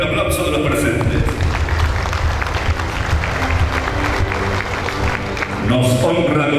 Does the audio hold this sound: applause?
yes